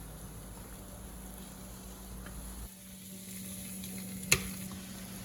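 Lamb shoulder chops pan-frying at medium heat give off a steady, close sizzle throughout, with a quieter stretch midway and a single sharp clink or tap near the end.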